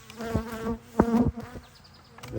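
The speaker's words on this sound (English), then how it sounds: "The bees are liking our camera." Honeybees buzz around a hive box and a camera close by, a loud steady drone that swells and sways as individual bees fly near the microphone.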